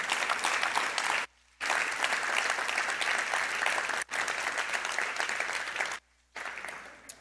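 Church congregation claps in steady, full applause, interrupted by a few abrupt silent gaps, with no voices over the clapping.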